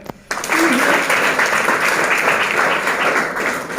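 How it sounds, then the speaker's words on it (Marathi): An audience at a girls' ITI event in Jalgaon breaks into loud, sustained applause that starts abruptly and carries on evenly for several seconds. "आणि यांच्यासाठी टाळ्या."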